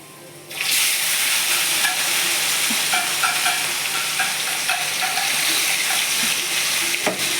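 Marinated meat goes into hot oil and sets off a loud, steady sizzle that carries on with little change, with faint stirring scrapes and a sharp clank near the end.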